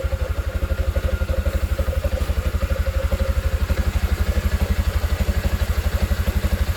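A Yamaha Jupiter MX motorcycle idles after being kick-started, its single-cylinder engine putting along in an even, rapid rhythm up close without a break.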